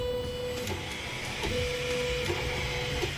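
An Ortur Laser Master 2 15 W laser engraver running its framing pass, a steady whirring hum with faint stepper-motor tones shifting and small clicks at each direction change, continuous and fairly close with no talking.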